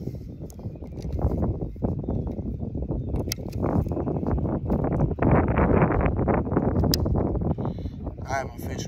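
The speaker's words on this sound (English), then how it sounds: "it is a little windy." Low, blustery wind buffets the microphone throughout while kayak bass fishing, rumbling and gusting louder toward the middle, with faint clicks and a voice briefly near the end.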